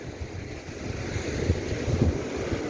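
Ocean waves washing onto Shanghumugham Beach with a steady low roar, mixed with gusty wind buffeting the microphone.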